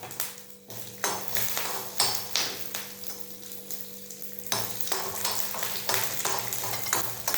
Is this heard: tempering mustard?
yes